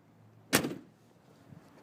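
A single sharp thunk from a door closing on a 1976 Ford Econoline camper van, close by, briefly ringing out before quiet.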